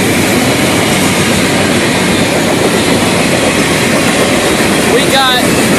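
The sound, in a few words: FEC freight train passing with gondolas, covered hoppers, boxcars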